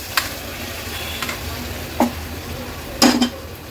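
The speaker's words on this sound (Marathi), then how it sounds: "आता ह्याच्यामध्ये आपण हा शिजवलेला राजमा ऍड करणार आहोत" Cooked rajma added to a gravy in a pan, with a soft steady sizzle and a few distinct clinks and scrapes of a spoon against the metal pan.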